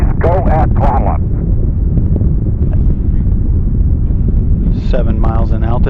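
Space Shuttle Atlantis on its STS-125 ascent gives a steady, dense roar of rocket engines with wind buffeting, continuous and loud from start to finish, while radio voices talk over it at the beginning and the end.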